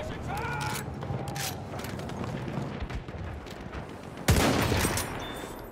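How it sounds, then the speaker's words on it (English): Enemy machine gun fire in the Battlefield 1 battlefield: rapid bursts of gunfire at a middle distance under a busy wartime backdrop, ending in one louder, closer blast near the end. "That's an enemy machine gun."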